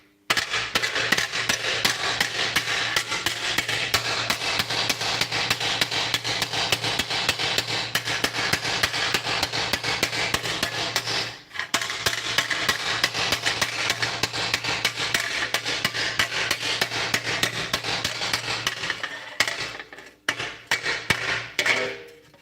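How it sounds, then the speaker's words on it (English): Rapid, loud, continuous hammer blows flattening a metal piece for a fuel tank, a sustained rhythmic metallic pounding with one brief pause midway and slowing strikes toward the end. "Hammering the fuck out of this piece of."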